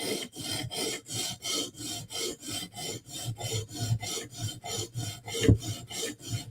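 A file rasps rhythmically across the heel of a blade being sharpened, about a dozen even back-and-forth strokes in steady succession, close and clear with no talking.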